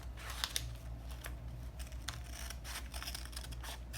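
Scissors snip through a paper sewing pattern while a princess bustier dart is cut out, with a steady run of close, crisp cuts and rustles over a low background hum.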